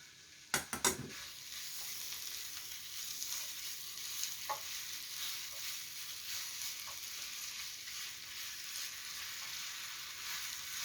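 Blanched fish cakes stir-fried with squid and garlic in a pan for a Korean side dish, with a sharp clatter as they go in and then a soft, even sizzle that carries on with faint scattered pops, all quiet and without speech.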